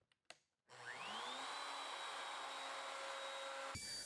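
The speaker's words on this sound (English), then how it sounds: "I'm going to set it up with a bushing on my router that gives me a half inch of MDF to catch that lid." A router fitted with a guide bushing spins up and cuts through MDF, a loud steady whine that rises quickly after a couple of clicks and holds before stopping abruptly.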